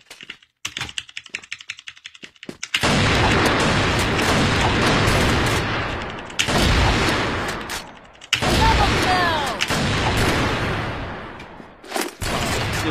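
Crossfire first-person shooter match with an AWM Inferno Dragon sniper rifle on the Greece map: dense, loud bursts of gunfire and explosions pound almost continuously, broken by brief quiet gaps, with sharp rattling impacts throughout.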